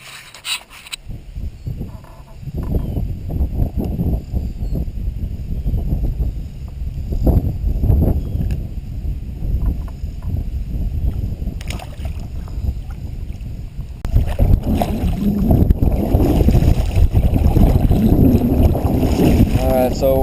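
Strong wind roars and buffets across the microphone on a pond in Arkansas while a fishing kayak is pedaled, a steady heavy rumble that surges louder partway through, with someone speaking over it.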